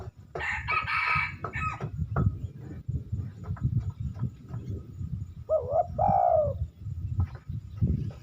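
A spotted dove calls close by with a few cooing, clucking notes over a steady low background rumble, including a brief higher warbling phrase.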